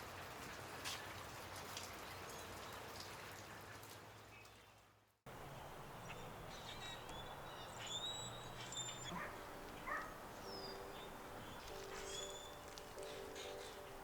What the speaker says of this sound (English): rain's quitting